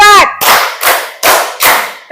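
Group of people clapping in short counted bursts during an Indonesian group activity, four loud sharp clusters of claps at an even pace, close and filling the space, with no talking over them.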